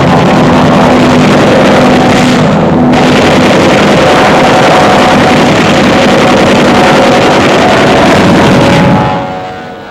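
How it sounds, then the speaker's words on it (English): Enemy interceptor aircraft flying in, heard as a loud, steady engine drone with heavy wind-like rumble that holds for most of the stretch, briefly dips, then fades out at the end. "Here comes an enemy interceptor."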